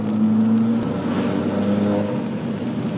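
Engine of a Ford Fiesta fitted with a plated limited-slip differential, heard from inside as a loud, steady drone with a low humming tone that eases slightly.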